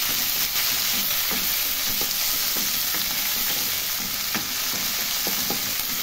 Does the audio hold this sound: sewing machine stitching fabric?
no